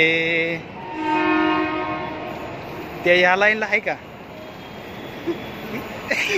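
A Pune Metro train at the station sounds a sustained tonal horn, then rumbles and clatters as people talk nearby.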